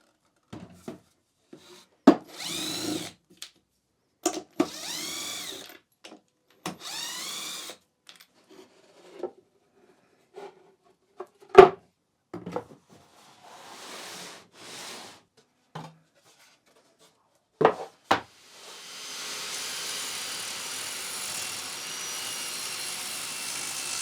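A hand plane or shaving tool takes a millimeter off the edge of a wooden storage drawer, giving short scraping bursts in bursts and pauses, close by, with a longer steady rasp near the end.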